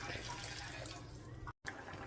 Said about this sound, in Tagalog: Lagyan ko lang ng konting tubig.